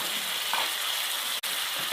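Tomatoes drop into hot oil already frying green chilies, ginger, garlic and cumin, setting off a loud, dense, continuous sizzle and crackle close by, with one brief cut-out midway and no talking.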